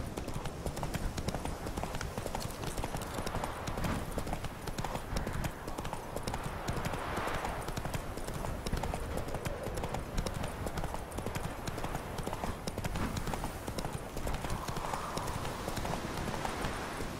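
Steady clip-clop of a ridden horse's hooves in a video game, a dense continuous rhythm up close and loud throughout, with a faint voice occasionally underneath.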